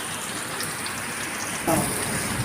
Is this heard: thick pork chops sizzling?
no